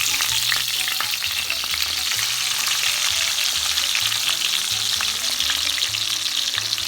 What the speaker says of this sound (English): So we're gonna fry the other side.